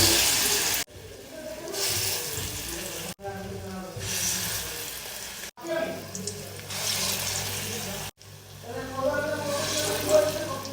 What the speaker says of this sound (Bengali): এবার আমি এক এক করে এখানে নিয়ে নিয়ে বড়া ছেড়ে দেব।